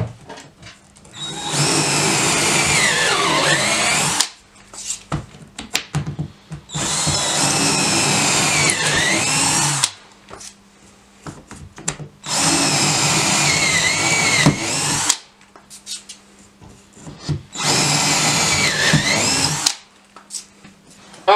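A power drill bores holes for a dowel cleat in loud, whining bursts of about three seconds each, separated by short pauses with faint handling noises.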